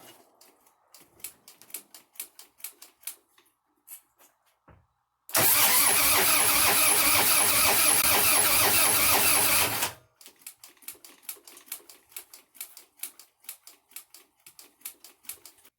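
A Harley-Davidson motorcycle engine, freshly rebuilt with a new base gasket, cranks loudly for about five seconds in one harsh continuous roar, framed by rapid light ticking and clicking before and after.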